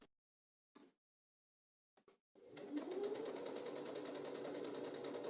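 A sewing machine stitches knit fabric from old sweaters for a quilt, starting up after a few short taps and then running as a continuous, fairly close whir.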